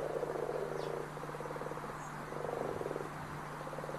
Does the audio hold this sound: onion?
no